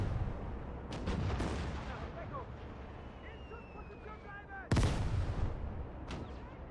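Mortar fire striking trenches in the Gates of Hell war game: scattered distant booms and rumbling, then one sharp, close impact near the end, with faint voices in the background.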